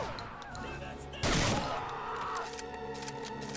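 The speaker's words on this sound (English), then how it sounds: "Now the shotgun shines!" A shotgun fires in the first-person shooter Blade of Agony, a Wolfenstein and Doom mod: one loud, close, sharp blast with a short ringing tail, set in in-game music and noise.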